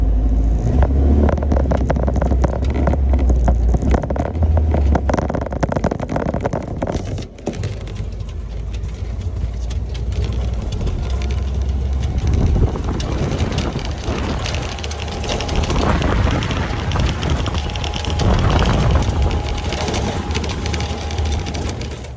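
Steady, loud engine and road rumble from a 1926 Willys roadster pickup out cruising, with continuous wind buffeting across the whole stretch.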